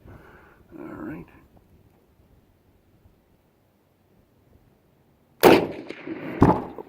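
A MAS 1936 rifle in 7.5x54 firing military surplus ammunition outdoors: two loud, sharp reports about a second apart, preceded by a short stretch of quiet talk and wind.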